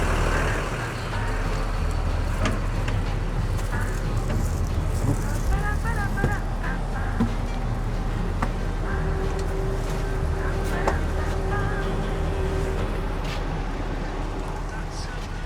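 A coach bus on the Jakarta–Jogja route rolls along the road after a rest-area stop, its steady low engine rumble and road noise filling the cabin from inside, with people talking faintly over it.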